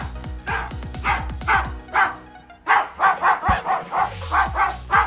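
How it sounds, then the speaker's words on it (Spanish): A cockatoo barks like a dog, giving a quick run of sharp yips and bow-wows followed by a second burst of louder, rhythmic barks, close and clear with no talking. "¿por qué tiene una cacatúa que ladra"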